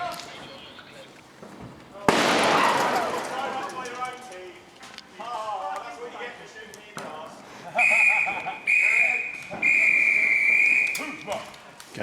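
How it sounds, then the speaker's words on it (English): An airsoft grenade lobbed inside a building goes off with a loud, abrupt bang followed by a rushing burst that fades, then shrill whistle-like tones and clattering, with people talking throughout. "They're about to lob a grenade inside."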